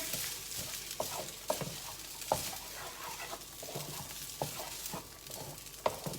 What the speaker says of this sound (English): Now we're just going to stir everything up together.